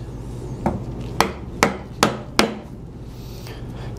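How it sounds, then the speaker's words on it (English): A mallet strikes a chisel to cut a mortise in wood, giving five sharp, close knocks at a steady rhythm against a low background hum, with no talking. "you can grab the chisel down here and it can go a lot faster"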